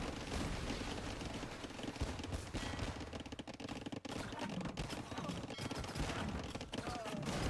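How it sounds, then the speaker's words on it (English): Cannon galleons in the video game Age of Empires II fire on towers. The result is a dense, continuous barrage of overlapping booms and cracks, mixed with game battle noise at moderate level. "Now with the cannon galleons, he can take on the towers."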